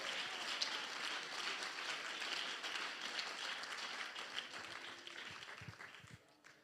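Church congregation applauding during a Spanish-language sermon, a fairly faint but continuous patter of many hands that fades toward the end, with a few low voices near the close.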